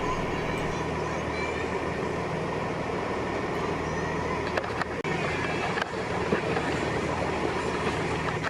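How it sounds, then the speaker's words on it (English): A Pendolino train approaching a station platform, a steady loud rumble of rolling stock with faint wheel clatter that continues throughout, with no voices. "one has to wonder where that approaching Pendolino is going to go"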